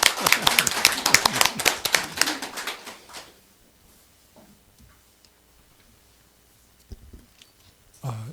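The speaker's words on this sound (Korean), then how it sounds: "박수 한번 힘차게 쳐주세요." Applause from the audience at a Chungbuk Provincial Council meeting on founding a kindergarten and integrating early childhood education, a dense burst of many hands clapping for about three seconds before fading into quiet room sounds and brief movement.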